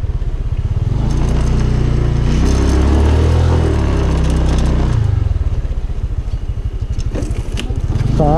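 Off-road motorcycle ride on Polillo Island heading toward the seashore, engine loud and close with steady droning and revving, clattering over rough ground throughout.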